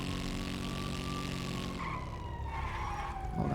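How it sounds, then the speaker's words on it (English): A police siren wails in a video game roleplay, a steady tone that sweeps downward and fades over engine noise, with no talk. "Hold on, I hear sirens."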